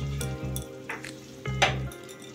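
Poppy seed paste going into a sizzling pan of ash gourd shukto, close spoon scrapes and metallic taps over a soft frying hiss, in short uneven bursts without talk.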